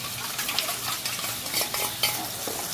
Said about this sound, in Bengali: ভালো করে নাড়াচাড়া করে নিয়ে মশলাটাকে কষিয়ে নেব